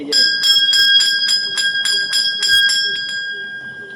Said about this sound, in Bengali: এই যে ঘন্টাটা,